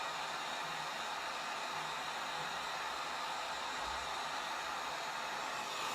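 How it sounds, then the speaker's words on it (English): A heat gun blowing hot air onto Monster Clay Medium during sculpting, a steady, even hiss of fan noise holding constant without pause at moderate loudness. "so warm up this spot here with my trusty heat gun"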